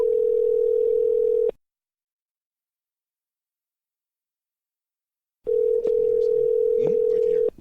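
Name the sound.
telephone ringing on an outgoing call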